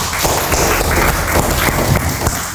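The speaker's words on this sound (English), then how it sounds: "Clapping for her." An audience applauds a speaker at an English public speaking practice session, dense continuous clapping throughout, fairly close and steady.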